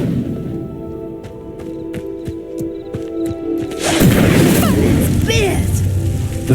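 An Incendio fire spell cast at a pyre in Hogwarts Legacy: a sudden loud whooshing burst of flame breaks in over a soft tinkling musical backdrop of chimes and taps, then roars on.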